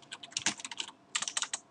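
Computer keyboard typing while naming a new layer state in AutoCAD, two quick bursts of close, crisp keystrokes separated by a short pause.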